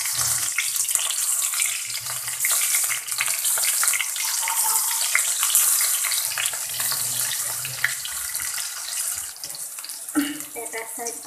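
Stuffed bitter gourds sizzle and fry steadily in a hot pan in an Assamese home kitchen, a continuous bright crackle that stays dense throughout with a louder burst near the end.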